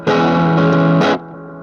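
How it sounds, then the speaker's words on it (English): Electric guitar run through a Line 6 M5 stompbox modeler on its Tube Echo setting, with Dynacomp compression and a Tube Screamer overdrive, plays one loud sustained distorted chord that cuts off and leaves a quieter echoing tail. "I'm running a Dynacomp and a Tube Screamer, and I'm running it with this Tube Echo setting at the same time."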